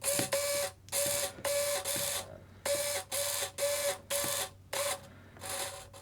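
A PTK 9732 MG-D 65 kg servo running at about 8 volts, giving a loud, rhythmic whirring buzz in repeated short bursts of motion separated by brief pauses.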